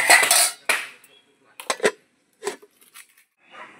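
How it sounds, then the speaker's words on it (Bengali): A pot lid clatters onto a pan of boiling raw mangoes, a sharp metallic clank followed by a few lighter taps and rattles with quiet gaps between. "এবারে ঢাকা দিয়ে দেবো"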